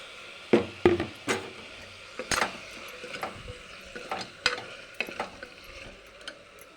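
Washed raw mutton tossed in a pan with turmeric, coriander powder and garam masala for a mutton curry: scattered stirring clacks and scrapes over a soft sizzle, fairly close, with no talk.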